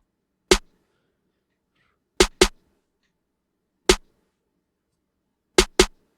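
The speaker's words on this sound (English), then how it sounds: "this is my snare. I got this snare from the same sound kit." Short punchy snare drum sample from a trap sound kit in FL Studio, hit six times in a sparse uneven pattern, some hits in quick doubles, with silence between.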